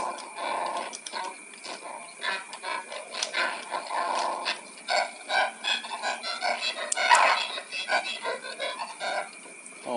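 A dog pants in The Adventures of Tintin video game played on Wii emulation, quick rhythmic breathy huffs repeating steadily, close and moderately loud over faint game sounds.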